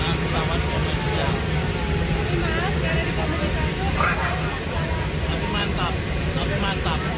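A non-commercial aircraft, likely a military transport, roars with steady, loud, unbroken engine noise throughout, as people talk faintly beneath it.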